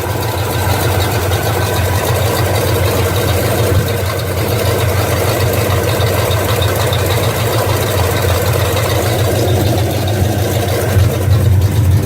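1986 Chevrolet C10 pickup engine idling with no exhaust fitted, a loud, raw, steady rumble with rapid even pulsing and a slight ticking knock, close and continuous throughout.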